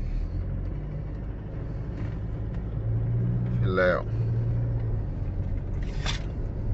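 A heavy bitruck, a twin-steer cargo truck, drives with a deep, steady engine rumble and road drone, close and continuous, with a brief squealing scrape midway while someone talks over it.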